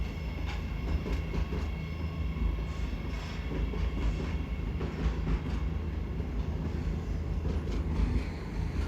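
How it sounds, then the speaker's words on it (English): A Sydney Trains Mariyung D set intercity train pulls into a station with passengers, heard as a steady low rumble with faint rhythmic wheel clatter. A thin high whine runs throughout at a moderate distance. "Here is an example of the Marayung set pulling in with passengers."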